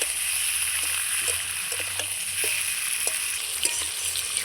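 Chicken pieces fry with sliced onions in a pan, a continuous bright sizzle with occasional crackles and soft pops, steady and close, with no talking.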